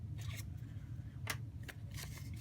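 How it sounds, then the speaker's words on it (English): Scissors snip through planner paper in a few quiet, separate crisp cuts over a faint low hum, heard close with no talking. "I'm going to go ahead and just cut right between week and end"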